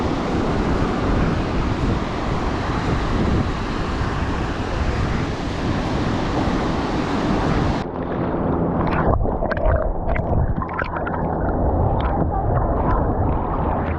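Surf and wind at Ormond Beach, Florida: a loud, steady roar of waves with heavy wind buffeting on the microphone throughout, the rush easing slightly about halfway through.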